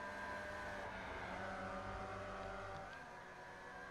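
Race car engine droning steadily as it drives a circuit, a loud continuous mechanical roar with sustained harmonic tones that ease slightly toward the end, with no voices.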